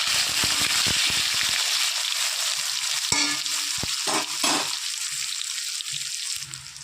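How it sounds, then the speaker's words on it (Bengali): Eggplant slices fry in hot oil left over from frying fish, giving a steady crackling sizzle. Sharp pops and stirring clicks come now and then, heard close and alone without talk. "ওই তেলেই ভেজে নেব আমি বেগুন।"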